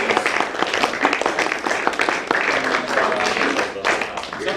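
An audience at a jazz artist talk event gives a steady round of applause, dense clapping sustained throughout at close-to-moderate distance, with a voice faintly speaking over it.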